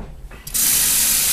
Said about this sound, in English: I'm going to take and wash these beans